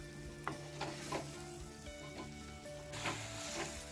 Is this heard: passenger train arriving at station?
no